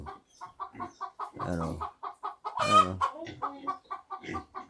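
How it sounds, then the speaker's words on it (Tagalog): Chickens on a farm cluck in quick, repeated bursts, close by and fairly loud, with a couple of longer squawking calls rising above them and a brief spoken word at the start. "Ayan, dami nilang manok."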